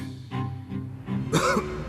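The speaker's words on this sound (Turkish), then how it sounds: "o öksürük sesi hiç rahat bırakmadı kadını" A few rough coughing bursts with throaty clearing sounds, close and fairly loud over a low background hum.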